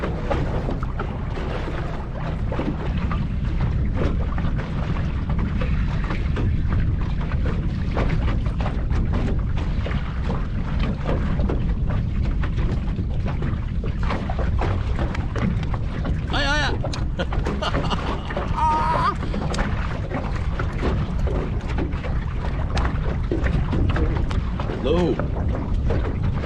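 An outboard motor drones steadily on a small fishing boat out on the water near Tõstamaa, a continuous low rumble with wind noise, while people talk over it.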